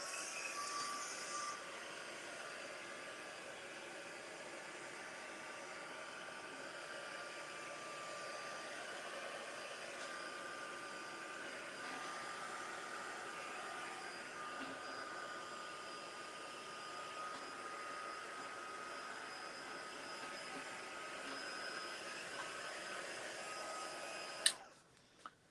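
A hair dryer blows over the last blended paint layer of a mixed-media art journal cover, giving a steady airy whoosh that holds nearly unchanged for over twenty seconds before clicking off.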